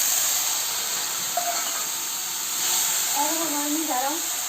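Water splashed into a hot pan of frying onions sets off a steady, loud hiss of steam and sizzle that holds for the whole stretch, with brief squeaky scraping tones near the end.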